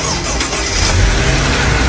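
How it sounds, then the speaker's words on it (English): A restored Mercedes S-Class engine fires up for its first start after a full restoration, a loud, steady mechanical roar filling the whole stretch with no talking. "we prepare for the first startup."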